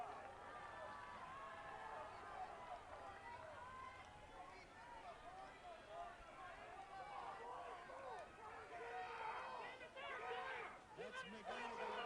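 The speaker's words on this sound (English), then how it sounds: "you can hear the teammates cheering them on" Crowd of teammates cheering and shouting encouragement at a WSU steeplechase race, a steady outdoor babble of voices with louder yells swelling near the end, under an announcer's commentary.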